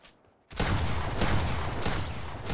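Gunfire in a mobile shooter video game breaks in after half a second of near silence, becoming a sustained, rapid volley of shots that rattles on steadily and fairly loud to the end.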